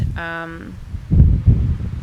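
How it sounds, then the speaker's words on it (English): Outdoor wind buffeting the microphone on a windy day, heard as low rumbling gusts that swell twice near the end after a brief tonal whine at the start; close and fairly loud, with no speech. "sorry if there's some wind. It's a little windy right now."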